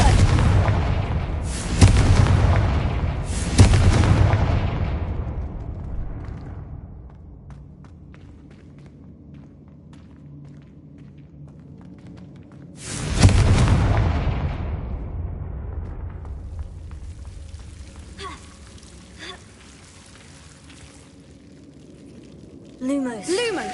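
Fiery spell blasts in Hogwarts Legacy burst as loud booming explosions, two close together early and a third later, each decaying into a rumbling tail over quiet ambience.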